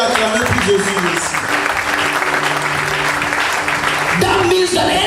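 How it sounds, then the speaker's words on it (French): A church congregation at a Sunday service in Lome, Togo, clapping loudly and continuously throughout, with a voice and music-like tones mixed in beneath the applause. "Oh, right there you should be clapping for Jesus."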